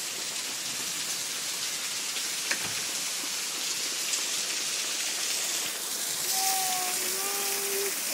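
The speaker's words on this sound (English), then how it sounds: "we could play in the rain" Steady outdoor rain falls continuously, a dense even hiss throughout, with a faint tonal call or whistle appearing near the end.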